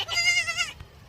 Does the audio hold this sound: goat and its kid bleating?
yes